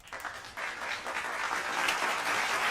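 A crowd of people applauds, a dense wash of hand claps that swells from a soft start and stays steady and fairly close, with no talking over it.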